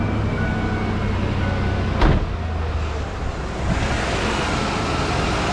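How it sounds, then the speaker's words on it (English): A 1994–95 Ford Mustang GT with a jumpered radiator fan circuit cranks with a short, loud burst, then its engine settles into a steady running drone, with no voices. "We'll go ahead and start the car."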